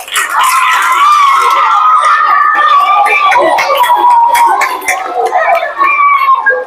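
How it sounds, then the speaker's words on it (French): A school crowd at an end-of-term results ceremony cheers loudly for a student, with sustained high ululating voices over scattered claps, filling the whole moment at close range. "Applaudissez."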